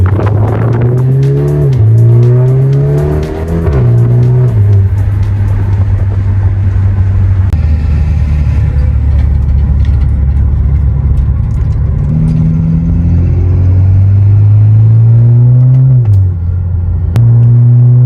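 A BMW 330i with a four-cylinder engine heard from inside as it accelerates hard, its loud engine note rising through the gears with brief dips at each shift, then easing off before climbing again.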